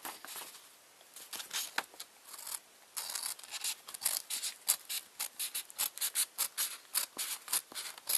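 Scissors cut through folded black paper in a quick series of crisp snips and rustles, close and fairly quiet, with the rhythm speeding into steady repeated cuts.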